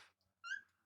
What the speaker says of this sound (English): my cat protested too